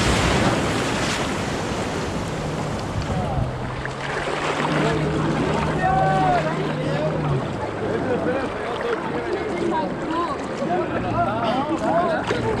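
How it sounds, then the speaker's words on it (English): Ocean waves break and wash onto a Costa Rica beach, making a continuous loud roar of surf with wind buffeting the microphone and people talking over it. "I gotta show y'all these waves."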